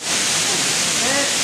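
A waterfall at Durgapadu in Rayagada roars as a steady, loud, broadband rush of falling water close by, with faint voices underneath.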